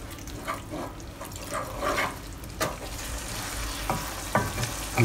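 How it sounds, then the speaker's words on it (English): Pork belly sauce for Hakka mei cai kou rou, thickened with cornstarch solution, sizzles steadily in a hot pan while a utensil scrapes and stirs through it in uneven strokes, close and fairly loud, with no talking. "we're now thicken this up a little bit. I'm using cornstarch solution over here."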